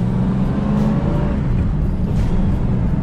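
Ford Mustang with a true dual exhaust rumbling steadily up close, a deep continuous engine drone with slight rises in pitch and no voices.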